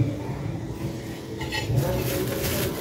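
Star apples (kaimito) set down on a plate: a few soft clinks and knocks of fruit against the dish, faint, over quiet room noise.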